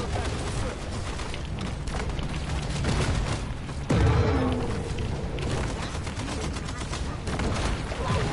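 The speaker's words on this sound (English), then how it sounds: "Imagine hunting a shark with an MG42 machine gun." MG42 machine gun fire in the game Maneater, a dense, continuous rattle of rapid shots with a heavier boom near the middle, loud and sustained under game noise.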